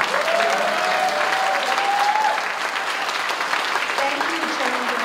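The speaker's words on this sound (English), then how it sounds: "give a big round of applause to all my staff who put it together" Audience applause at a New York State senator's inauguration ceremony, sustained dense clapping from a large indoor crowd lasting the whole clip at steady volume, with faint whistles and voices mixed in.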